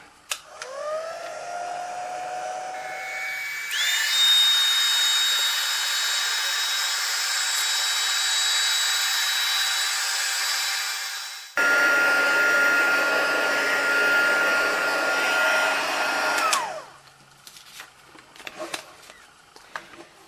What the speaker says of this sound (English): Then I'll need to heat emboss this.